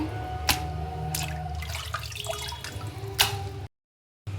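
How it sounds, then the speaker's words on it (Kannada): Running water splashes steadily as 750 grams of chicken liver is rinsed in a kitchen, with a few sharper splashes and drips standing out before a brief break in the sound. "ಫಸ್ಟಿಗೆ ನಾನಿಲ್ಲಿ ಲೀವರನ್ನು ಚೆನ್ನಾಗಿ ತೊಳ್ಕೊಳ್ತಿದ್ದೀನಿ"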